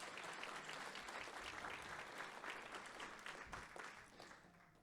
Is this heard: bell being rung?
no